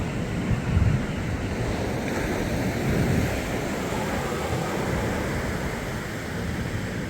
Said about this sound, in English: Pretty turbulent ocean in this area.